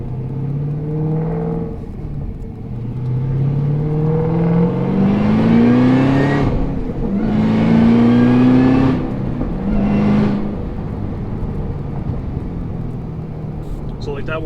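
A Cadillac CTS-V accelerates hard at about three-quarter throttle, its engine note climbing through gears in rising sweeps with brief drops at each shift, loud and heard from inside the car.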